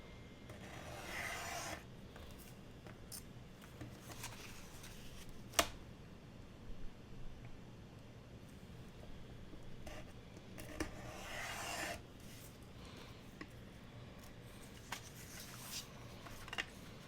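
A craft knife scraping and rasping through paper being trimmed for a junk journal, faint intermittent rubbing strokes in short bursts with a sharp click, recorded close in a quiet room.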